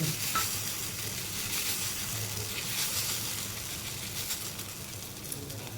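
Sabudana thalipeeth roasting in a pan, giving a continuous soft hiss and sizzle at an even level with no breaks.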